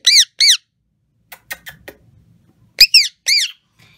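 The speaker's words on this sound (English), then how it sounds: "They are both the birds that scream the most." Pet ring-necked parakeet and budgies kept indoors screech loudly: two harsh, piercing screams, then a few softer chirps, then two more shrill screams close by.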